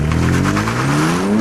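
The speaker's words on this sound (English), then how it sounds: "In both cars we turned the traction control systems off and simply left them in drive and nailed it." A BMW M3 and a D3 launch hard from a standstill with traction control off, engines revving loudly and rising steadily in pitch over a short burst, close and alone.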